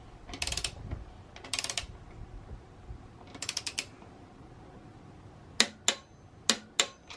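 A ratchet wrench tightens a supermoto rear axle nut, three bursts of rapid clicking followed by four sharp clicks of a torque wrench, close and crisp with no speech.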